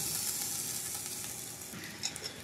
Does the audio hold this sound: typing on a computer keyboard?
no